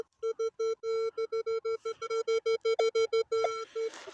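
Metal detector signal tone at a field search of an old German settlement site, a close, loud series of about twenty short repeated beeps in an even rhythm, alone without talk.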